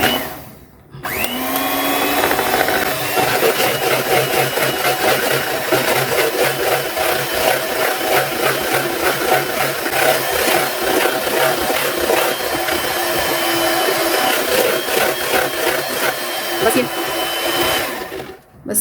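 An electric hand beater set to turbo whips cream for an ice cream premix, a loud continuous whirring drone that runs for most of the stretch and cuts off near the end.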